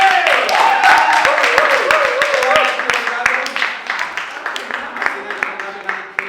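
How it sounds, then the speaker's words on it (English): An audience at a poetry slam claps and cheers for a performer after her perfect score, with dense, loud applause that gradually thins into scattered claps, with voices mixed in. "To receive her applause."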